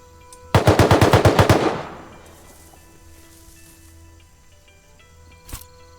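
AK rifle fire in the survival video game Rust: one loud, close burst of about ten rapid automatic shots with a fading echo, then quiet ambience and a single faint distant thud.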